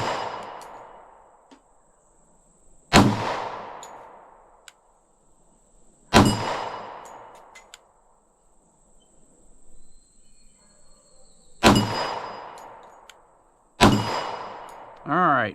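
Four loud .45 ACP pistol shots spaced a few seconds apart, each followed by a ringing clang from an 8-inch steel swinger target at 15 yards, with quiet outdoor ambience and faint shuffling between shots.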